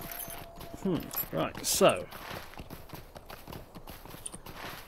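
Horse hooves clip-clopping in the online game The Lord of the Rings Online, a short run of clustered steps set against someone talking, with soft game ambience continuing afterward.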